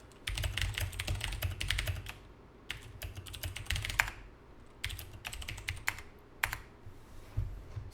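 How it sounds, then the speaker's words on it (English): Skype message being typed on a computer keyboard: steady bursts of quick key clicks with short pauses between, close and fairly quiet, no talking. "Lori, in Skype, check, I'm going to type you a message."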